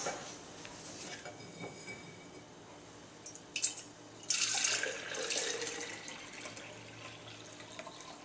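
Homemade almond milk poured from one vessel into a container: a quiet trickle and drips, then a short louder splashing pour that settles into a faint stream.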